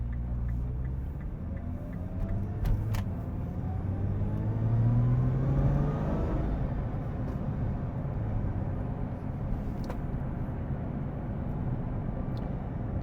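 A Nissan GT-R accelerating hard, its engine drone rising steadily in pitch over several seconds and then holding a loud, continuous roar with no talking.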